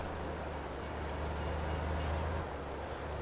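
A train in the farming game Farming Simulator 22 rumbles past in a steady, loud low drone with faint higher rattling, continuous throughout with no talk.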